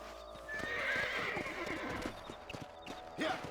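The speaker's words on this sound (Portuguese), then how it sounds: "Olha aí o cavalo subindo no pau aí." A horse in the Red Dead Redemption video game gallops with steady clip-clop hoofbeats and gives a loud whinny near the start, with another neigh toward the end and faint game sound effects underneath.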